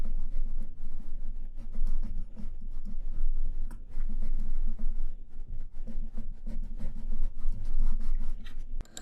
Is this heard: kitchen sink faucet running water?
no